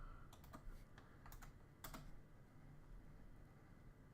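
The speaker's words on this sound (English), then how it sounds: "Let me type his name here to Google." Fast keystrokes tap on a computer keyboard in short bursts, close but faint in a quiet room.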